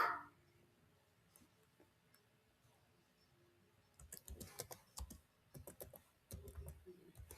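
Keys on a computer keyboard clatter in quick, uneven bursts of clicks while HTML code is typed, starting after a few seconds of near silence and staying close and soft.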